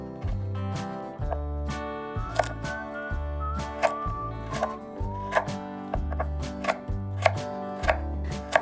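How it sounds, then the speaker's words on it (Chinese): Onion and carrot are diced with a knife on a board, producing a brisk, regular series of close, crisp chops with faint background music. "洋葱切成粒， 胡萝卜切成粒"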